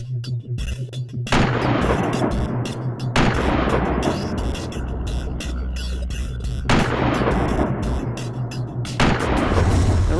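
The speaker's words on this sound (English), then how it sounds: "simply fan the hammer, holding the trigger down for the second shot" A Ruger revolver chambered in .45 Long Colt fires with the hammer fanned, giving loud, booming gunshots, each with a long, rumbling tail that fills the space between reports.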